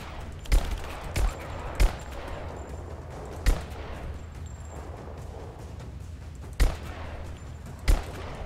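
Gunfire in Rise of the Tomb Raider: six separate sharp shots or short bursts crack out at irregular intervals over a low, steady rumble of game ambience, with no voices.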